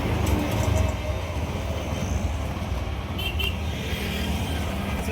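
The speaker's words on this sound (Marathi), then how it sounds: "आम्ही ना चाललेलो आहोत बस स्टँडला रिक्षाने." Auto rickshaw ride on the way to a bus stand: a loud, constant engine and road rumble with wind noise throughout, and people talking faintly under it.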